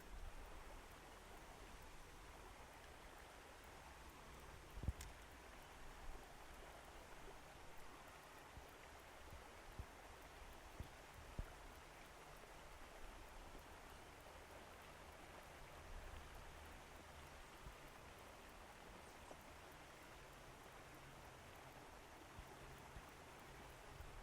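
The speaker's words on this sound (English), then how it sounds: "I'm just going to record the sound of the river here for a second." A flowing river heard up close, a steady, dense rushing wash of water that continues evenly for the whole stretch with occasional faint splashes, no talk over it.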